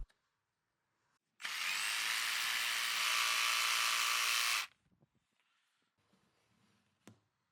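A jigsaw cuts through a floor board while fitting garage flooring against an existing edge, a loud steady buzzing whine lasting about three seconds, followed by faint handling clatter and a sharp knock near the end.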